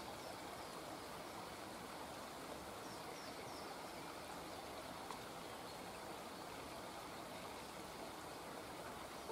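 The Pollan Burn, a stream in Gortin Glen near Omagh, makes a continuous rushing babble of flowing water, steady and moderately faint, with no voices over it.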